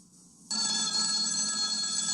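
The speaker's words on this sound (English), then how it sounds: "the phone rang" A telephone bell sound effect in a 1974 Flintstones book-on-tape story starts abruptly after brief quiet, then rings loud and continuous with a bright, sustained metallic jangle.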